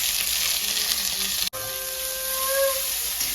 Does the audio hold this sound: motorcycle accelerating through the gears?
no